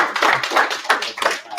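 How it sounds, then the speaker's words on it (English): Brief, close clapping from a small audience at an investment group meeting, a few bursts of hand claps over under two seconds. "Let's give him a round of applause."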